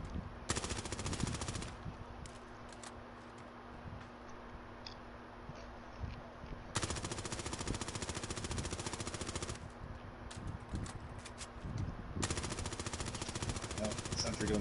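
Automatic sentry gun in Call of Duty Warzone firing long, loud, continuous bursts close by, with short gaps between volleys and brief quieter stretches.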